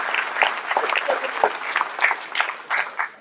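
Audience at a New Year's greetings ceremony at the Forges de Lanouée breaking into steady applause, a dense, fairly close patter of hand claps lasting a few seconds with no talk over it.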